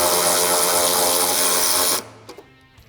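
A power tool spins out a 13mm bolt from the inner rock slider of a 2021-or-newer Ford Bronco. A loud, close, high-pitched whir runs for about two seconds, then cuts off and leaves a few faint clicks.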